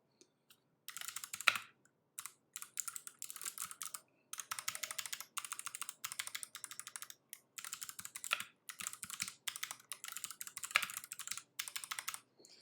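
Steady typing on a 75% mechanical keyboard with rattly stabilizers, close and clear, with bursts of rapid clacking keystrokes broken by short pauses and no talking.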